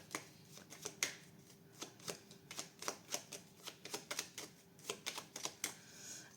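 Tarot cards shuffled and dealt onto a table in quick, crisp riffling bursts and soft slaps, close and fairly loud, with no talking over them.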